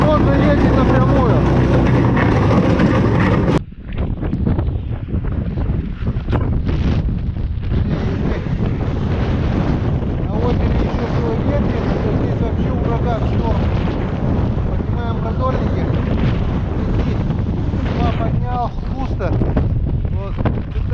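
Strong, gusting wind buffeting the microphone on a frozen lake during ice fishing in hard frost, a loud continuous roar after an abrupt cut, with a voice speaking underneath.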